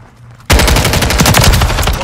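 Rapid machine gun fire bursts out suddenly in multiplayer Call of Duty Modern Warfare III on the Sub Base map. It is a loud, dense stream of shots after a quiet half-second start.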